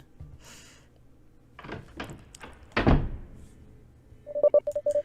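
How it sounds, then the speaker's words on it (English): A door is pushed shut with a few soft rattles and one solid thunk, then a run of short, bright electronic beeps follows as the lock is set, all close and otherwise quiet. "Closing and locking the door behind me"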